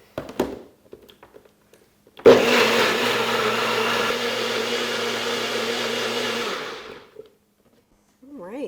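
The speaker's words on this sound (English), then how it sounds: "put it on our blender and blend just until smooth" A blender whirs loudly for about five seconds while it blends chia seeds into a pumpkin smoothie. The steady high motor whine winds down at the end, with brief handling noises before and after.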